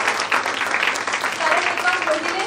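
Audience applause for Sangeeta at a women's group membership ID card inauguration ceremony, a dense burst of clapping from a crowd, heard close with voices mixed in.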